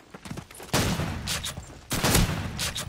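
Shotgun blasts from the trench gun in Call of Duty 2 online multiplayer, two loud booming reports about a second apart over scattered background gunfire from the match.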